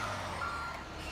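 Garbage truck reversing beeps in the GTA 5 Online video game, a faint steady electronic tone under broadband engine and traffic noise, with no voices.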